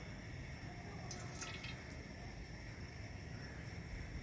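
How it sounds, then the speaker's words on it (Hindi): A cup of cooking oil poured into a pot set over a fire gives a quiet, continuous liquid trickle against a steady background hiss, with a few faint splashy drips midway. "पतीले में 1 कप ऑयल डालेंगे"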